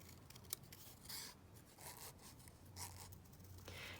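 Scissors snipping out lace while decorating a folio cover, soft close cutting and rustling, very quiet, with a few faint crisp snips.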